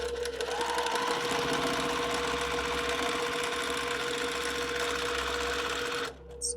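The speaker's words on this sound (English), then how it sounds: "And then I'm going to sew 1/4 inch on either side of that line." A sewing machine stitches a quarter-inch seam through a quilt block, running steadily and loud for about six seconds before stopping, then a brief restart at the very end.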